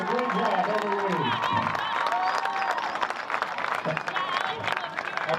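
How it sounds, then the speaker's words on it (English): A crowd at a school football game applauds first and second grade cheerleaders with steady clapping and cheering, while a voice talks over it. "Big hand for our first and second grade cheerleaders"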